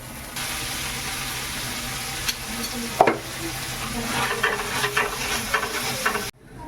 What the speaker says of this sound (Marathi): तसं पावामध्ये भाजी टाकून आपले पाव असे भाजून घ्यायचे